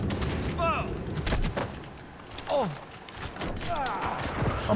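SMG fire in the shooter Sniper Elite 5, heard as scattered sharp bursts and thuds, mixed with voices talking over the fighting.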